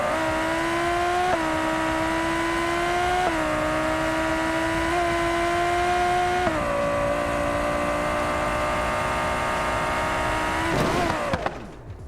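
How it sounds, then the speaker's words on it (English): Race version of the Civetta Scintilla supercar in BeamNG.drive, a loud sustained engine whine climbing through gear changes with brief dips at each shift, ending abruptly, no talk. "this is the race version of the Civetta Scintilla, probably the fastest version"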